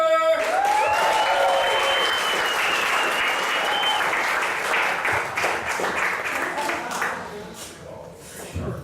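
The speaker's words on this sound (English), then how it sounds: "Please give a giant round of applause to Matthew Plummer." A comedy club audience applauds and cheers as the headline stand-up comedian is introduced: dense, sustained clapping with a few whoops, loud and steady for about seven seconds, then thinning out at the end.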